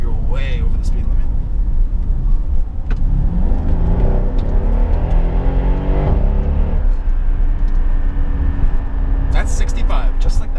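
A Mercedes SL63 AMG engine swells and roars as the car accelerates hard onto a highway, with steady road and wind noise beneath and a voice talking over it.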